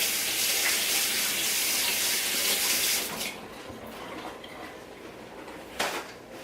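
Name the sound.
rinsing hands under a running water tap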